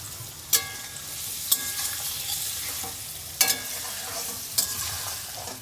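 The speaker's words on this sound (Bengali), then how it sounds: "পনিরগুলো পুরো ভাজা হয়ে গেছে" Paneer pieces frying in a pan, a steady close sizzle broken by four sharp clanks of a utensil against the pan, with no talk.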